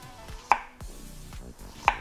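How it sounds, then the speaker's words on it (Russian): A knife slices a zucchini into rings on a cutting board in a few crisp, evenly spaced chops, close and clear with no talking. "Кабачок нарезаю колечками толщиной примерно 5-7 мм."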